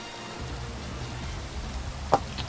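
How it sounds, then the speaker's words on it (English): Steady rain falling in Minecraft, a soft continuous hiss of droplets with one brief sharper tick near the end, no voices. "Why is it raining? Stop raining!"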